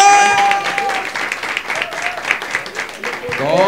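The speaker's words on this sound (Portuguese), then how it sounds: "Palmas pro Gustavo Boleiro!" Audience clapping for a stand-up comedian at a comedy show, a loud close burst of applause with cheers and voices mixed in over a few seconds.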